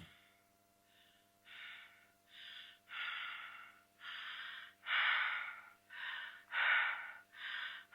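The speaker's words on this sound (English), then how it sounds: "The breathing is also linked to the player's health parameter and is becoming louder when the player is close to death." A video game player character at low health breathes heavily, with a series of about ten labored gasping breaths that grow steadily louder and closer together, heard alone and close up.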